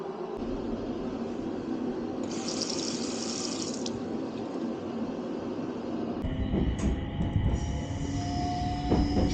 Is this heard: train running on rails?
yes